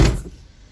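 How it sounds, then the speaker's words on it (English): A car door is shut, a single close, solid thump that decays quickly into quiet. "Let me shut this door."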